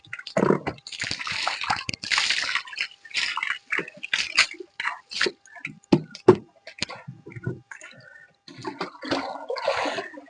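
Water splashes and sloshes in irregular bursts as a horse is washed, with pauses between pours and a few sharp knocks, close and fairly loud.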